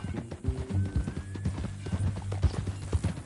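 Horse hooves clip-clop steadily in Red Dead Redemption 2, a brisk, even rhythm of close, solid thuds on hard ground that carries on throughout with a faint background bed beneath.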